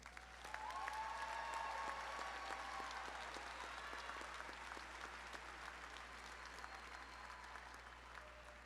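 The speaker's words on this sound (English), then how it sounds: "Can we please give them a round of applause?" A large indoor audience at a university commencement ceremony claps in a sustained wave that rises quickly, holds, then gradually thins, heard from some distance and fairly soft.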